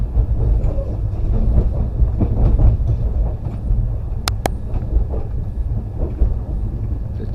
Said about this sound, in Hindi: ट्रेन अपनी फुल स्पीड से भी एक स्पीड ज़्यादा चल रही है